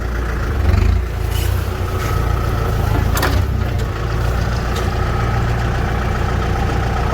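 Farm tractor engine running steadily while towing a loaded sugarcane cart, a continuous low rumble that stays loud and close throughout with a brief surge near the start and no talking.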